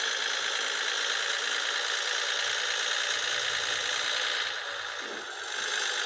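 Volvo F16 truck engine in the Cargo Transport Simulator video game, a steady loud droning rumble while running through the gears, with a brief dip in the sound near the end during a shift.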